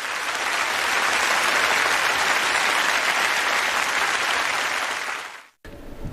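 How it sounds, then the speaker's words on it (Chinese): Audience at the CMG second China TV Drama Annual Gala applauds the honorees with loud, dense, sustained clapping that swells and holds for several seconds before cutting off abruptly. "再次把掌声送给两位荣誉获得者"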